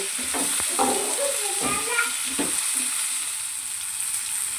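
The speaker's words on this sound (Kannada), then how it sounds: "ಸ್ವಲ್ಪ ಟೊಮೆಟೊವನ್ನು ಹಾಕಿ ಮತ್ತೆ ನಾವು ಅದನ್ನು ಫ್ರೈ ಮಾಡಿಕೊಳ್ಳಬೇಕು" Tomato fries in hot oil for vegetable upma, a steady soft sizzle with spoon stirring and scraping in the first half, then an even frying hiss on its own.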